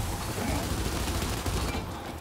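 Dense pistol fire and combat din in Gears 5 co-op play, loud and continuous with overlapping shots through the whole stretch.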